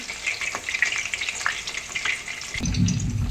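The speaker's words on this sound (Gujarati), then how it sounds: "આપણી જે ડુંગળી છે એ આપણે આવી રીતે એને તળી લેવાની છે" Chopped onions frying in oil for Kathiyawadi dungaliyu, a steady close crackling sizzle with a few scraping stirs and a lower rumbling surge toward the end.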